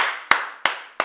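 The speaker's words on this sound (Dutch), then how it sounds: "Applaus voor mij. Applaus voor haar." Three sharp hand claps spaced evenly about a third of a second apart, close and fairly loud, each with a short ringing tail in a small room.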